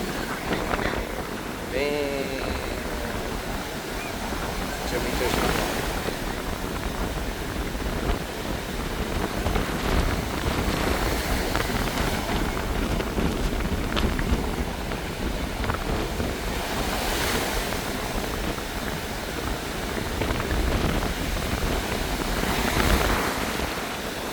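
Large waves roll onto a beach on Boracay on a very windy day, a continuous broadband roar of surf with gusty wind buffeting the microphone and swells rising and falling throughout.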